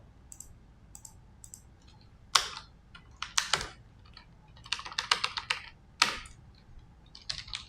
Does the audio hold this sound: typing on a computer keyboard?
yes